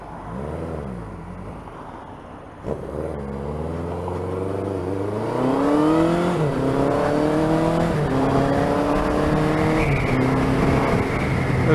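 A Suzuki GS1000 motorcycle engine revs up repeatedly, loud and close, with rising and falling pitch sweeps as the throttle is blipped over a steady running drone.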